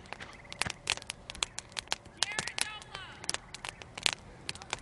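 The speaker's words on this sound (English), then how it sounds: "With the fire crackling." Girandola firework by Winda, the Take Me To Your Leader cake, set off outdoors: a steady run of sharp crackling pops and bursts with a brief whistling streak, fairly close, over faint background noise.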